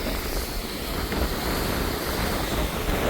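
Strong wind and sea waves on the Jaffna coast after a storm, a steady, loud roar of surf and gusting air that continues without a break and with no voices.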